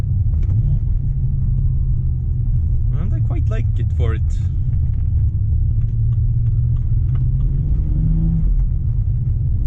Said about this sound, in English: it makes quite a nice sound. It has a sort of winter beater sound to it